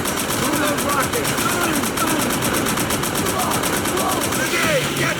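Machine gun fire in the World War II shooter Call of Duty: World at War, a rapid steady rattle of automatic bursts amid battle noise, with voices shouting over it.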